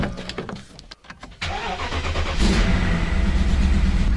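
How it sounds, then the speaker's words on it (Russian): A BMW with freshly spray-painted R19 wheels cranks briefly and fires up, then settles into a loud, steady idle close by. No talking is heard. "Сейчас я хочу попробовать завести машину"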